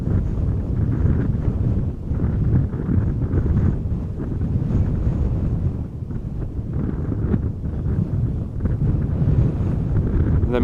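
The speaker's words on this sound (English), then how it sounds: "the wind has been blowing from the northeast all week now" Wind buffets an outdoor microphone at a plane-spotting spot beside Amsterdam Schiphol Airport, a steady low rumbling roar with gusty surges lasting throughout, loud and close, with no talking.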